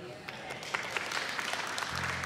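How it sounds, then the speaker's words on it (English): Church service congregation applause, many hands clapping together in a dense, lively patter, with some voices mixed in near the end. "You hear that clapping."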